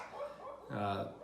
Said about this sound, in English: If you can hear that barking